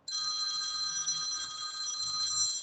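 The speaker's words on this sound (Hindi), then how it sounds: "मनसुखा, कोई फोन करा अर्जेंट में?" A telephone rings steadily and loudly nearby, a continuous electronic bell tone with no talking.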